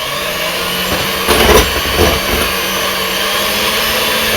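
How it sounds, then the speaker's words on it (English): An electric mixer whips egg whites for chocolate macaroons, a loud steady close motor whir with a brief louder rattle near the start, running throughout. "we'll get our egg whites back to whipping here"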